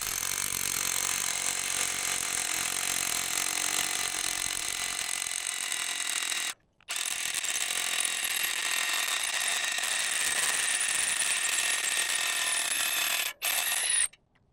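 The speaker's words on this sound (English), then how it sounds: "let's start a timer and see exactly how long this takes to drill a 6-inch hole." A six-inch hole being drilled with a slightly used bit on post collars in a 100-year-old barn build: loud, steady grinding and whirring of the drill, stopping briefly twice before running on again.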